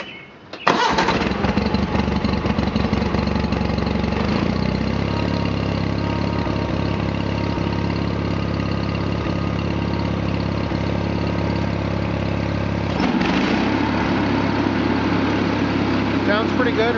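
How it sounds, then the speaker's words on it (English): A John Deere 318 lawn tractor engine cranks and catches within the first second, then settles into a steady, loud idle that runs on evenly, with a brief change in note near the end. "So what I do is I start the machine, you know, let it idle for a little bit"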